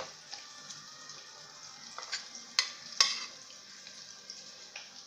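Pomfret fish frying in a pan with spiced masala gives a soft, faint sizzle, with a few sharper crackles and stirring scrapes near the middle.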